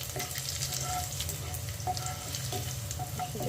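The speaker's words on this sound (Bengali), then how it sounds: "এবার ওই তেলে দিয়ে দিচ্ছি রসুন, কেটে রাখা হয়েছিল ছোটো ছোটো করে।" Small chopped garlic pieces fry in hot oil with a continuous close sizzle and occasional light spoon clicks, steady and fairly loud, with no voice over it.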